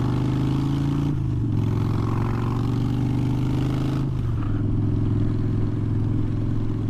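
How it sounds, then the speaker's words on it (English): A motorcycle engine drones steadily while riding, close and continuous, with low humming tones that dip briefly twice as the rider shifts. "I like to have a little bit of my bike sound in the background while I ride"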